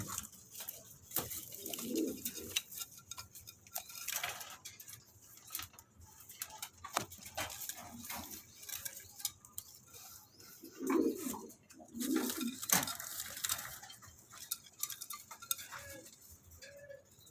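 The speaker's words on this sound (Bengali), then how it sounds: "দেখতে পাচ্ছেন এখানে একজোড়া কালদম আছে" A pair of Chuithal Kaldom pigeons cooing in soft low bursts, a few separate coos spaced across the stretch with quiet gaps and faint background clatter between them.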